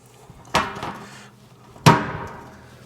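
A hammer strikes against a dolly while working the wire edge of a metal car fender: two sharp, ringing metallic blows about a second and a half apart, close and loud, each with a short ringing decay.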